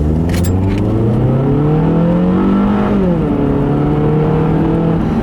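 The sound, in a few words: car accelerating with automatic transmission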